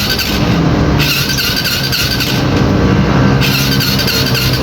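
An engine fitted with a new spark plug is cranked but refuses to start, giving a loud, steady mechanical drone that runs continuously with no voices.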